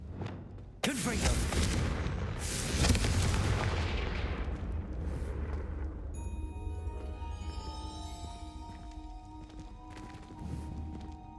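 A Confringo fire spell blast in Hogwarts Legacy lands as a sudden loud explosive burst with rumbling debris, fading over a few seconds into quieter game ambience and tonal music, with a voice casting the spell.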